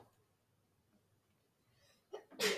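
Near silence in a geometry classroom, then one sharp sneeze near the end that comes as two quick, loud bursts close to the listener.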